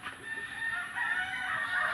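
A chicken clucks and crows nearby, a brief, fairly loud call that rises into a strained cry over faint background noise.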